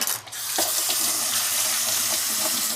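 A lemon rinsed under a running kitchen tap: a steady, close rush of water splashing into a sink for a few seconds, with small shifts as the fruit turns in the stream.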